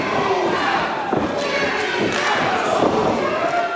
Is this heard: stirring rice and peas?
no